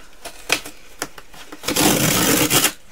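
Crinkly rustling and sharp tearing of packaging close up, with a few quick crackles followed by a longer, louder rip of paper or plastic.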